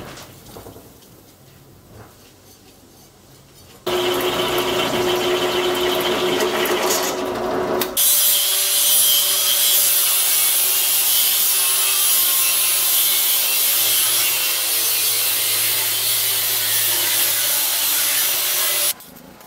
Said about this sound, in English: I'm cleaning up the steel with this bench grinder